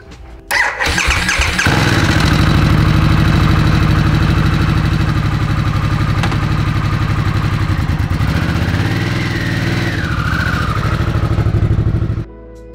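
A Harley-Davidson Sportster S with a Revolution Max engine cranks and fires up, then settles into a steady, loud, throbbing idle with a brief blip of revs near the end.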